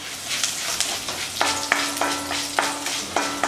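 Mustard seeds, urad dal, chana dal, cinnamon and cloves frying in hot oil while cooking Tamil mango rice, a close steady sizzle broken by spoon scrapes and stirring knocks.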